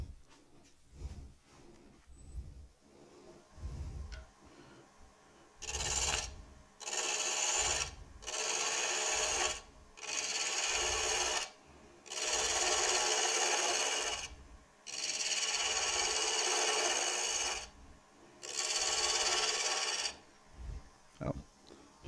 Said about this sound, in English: Probably use a bowl gouge for that.